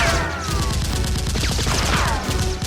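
Rapid, continuous gunfire in a staged action scene as a criminal shoots wildly, a dense volley of sharp, closely spaced shots filling the whole stretch with no talk.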